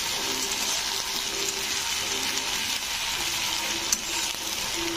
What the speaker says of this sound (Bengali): তো এরকম আমি 2 থেকে 3 মিনিট নাড়বো।